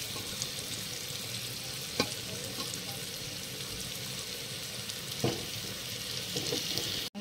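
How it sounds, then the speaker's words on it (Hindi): Rice being stirred and fried in a pan, a soft continuous sizzle with occasional spoon scrapes and clicks, fairly quiet and close, with no talk. "देखिए यहाँ पे ऐड कर दिया मैंने चावल, तो इसे अच्छे से चलाते हैं"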